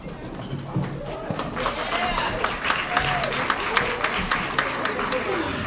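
Applause and cheering from an audience at an awards ceremony, steady crowd clapping throughout with scattered louder claps, mixed with voices and whoops from the crowd.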